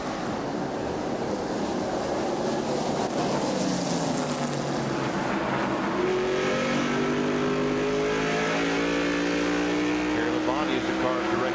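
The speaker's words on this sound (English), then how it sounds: "Mark Martin comes along with Valvoline Ford" NASCAR stock cars race at Richmond in 1996 with a Valvoline Ford among them, giving a continuous roar of engines rising in pitch as cars pass, under a commentator's talk.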